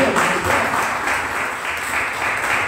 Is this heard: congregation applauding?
yes